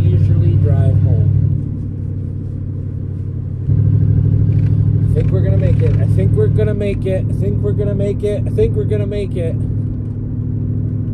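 A 1964 Oldsmobile Super 88 rumbles steadily on a drive home, its loud low engine drone continuous throughout, with someone talking over it near the start and again in the second half.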